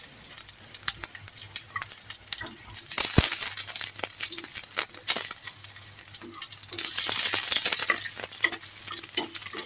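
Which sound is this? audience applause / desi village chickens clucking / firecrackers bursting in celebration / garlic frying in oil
garlic frying in oil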